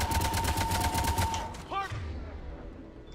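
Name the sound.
gunfire in the video game Mass Effect 3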